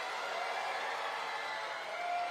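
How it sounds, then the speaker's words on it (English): Steady murmur of a Melbourne crowd at a WNBL women's basketball game, Melbourne Boomers v Bendigo Spirit, filling the arena as a Spirit player stands at the free-throw line, with no clear cheers or claps standing out. "Melbourne crowd doing their best to deter"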